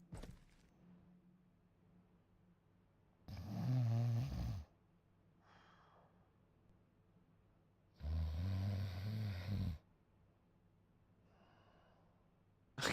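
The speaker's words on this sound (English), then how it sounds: "this snoring is starting to annoy me" Snoring in the Space Station 14 video game, two loud, drawn-out snores a few seconds apart with fainter breaths between them, over a quiet background.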